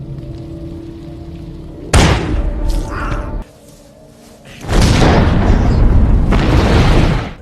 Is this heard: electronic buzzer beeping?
no